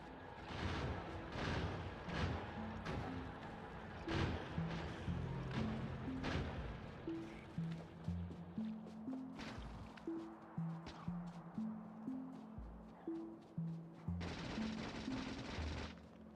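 Gun turrets firing in Factorio during the fight against biters: repeated sharp bursts of gunfire pop at an uneven rhythm over a low droning background, with a dense rapid burst near the end.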